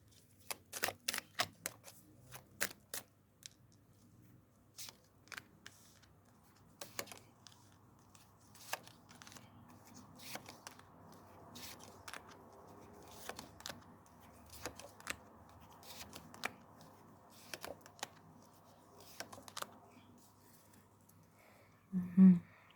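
Soft rustling and slapping of tarot cards being shuffled in bursts, close by and quiet, with pauses between handfuls.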